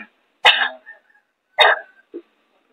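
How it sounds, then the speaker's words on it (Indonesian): A woman coughs into a plastic bag during a ruqyah healing session, two strong separate coughs about a second apart followed by a short, weaker third cough, close and loud against silence. "Batukan ini tiga kali nih ke plastik."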